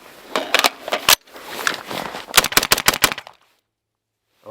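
A rifle fires cold Winchester 55 grain XM193 ammunition in a quick series of about a dozen close, loud, cracking shots, some in fast clusters, then silence.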